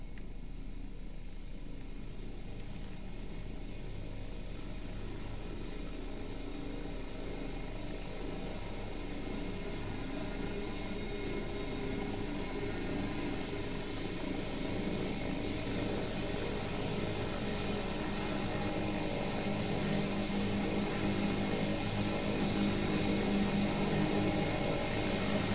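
A simulated AW-139 helicopter in the X-Plane 11 flight game, heard as a steady, even rotor and turbine drone that holds unchanged for the whole stretch, with no voices over it.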